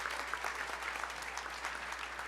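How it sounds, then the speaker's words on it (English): Audience applause fills a banquet hall at an annual charity gala in New York, a steady dense wash of clapping with no pauses and no voices over it. "let's give him a round of applause anyway"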